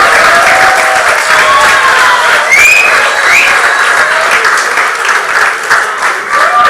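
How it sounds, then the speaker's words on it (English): Steady, full round of audience applause at an awards ceremony for a coach, dense close clapping with scattered whistles and murmuring crowd underneath, sustained at even loudness. "Let's hear a big round of applause."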